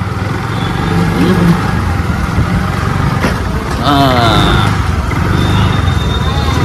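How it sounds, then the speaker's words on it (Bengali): A scooter travels along a road with a steady engine hum and wind rumble throughout, a voice speaking over it and passing traffic sounds in the background. "ভাগ্নে স্কুটি চালাচ্ছে, দেখেছো?"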